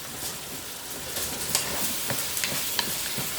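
Small pieces of pork fry in a pan with a steady close sizzle, broken by scattered stirring scrapes and pops, without any talking.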